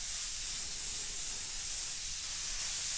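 An airbrush sprays a second coat of AutoAir Colors paint close by, making one steady, even hiss of air and atomised paint that lasts the whole time with no breaks and no talking.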